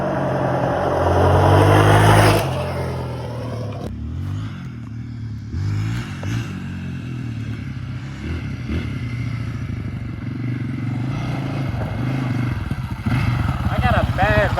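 A cheap race wheeler motorcycle, geared tall, revs hard while lifting into a wheelie, a loud engine roar climbing then dropping away, followed by a steady running drone with people talking over it.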